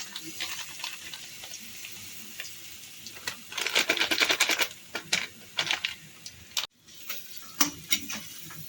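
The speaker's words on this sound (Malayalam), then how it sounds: "വെളിച്ചെണ്ണ ചൂടായിട്ടുണ്ട് നമുക്കപ്പം കടുക് ഇട്ട് കൊടുക്കാം" Mustard seeds and a spice mix hit hot coconut oil, setting off sharp sizzling and quick popping crackles that swell into a dense burst midway, then continue in scattered pops.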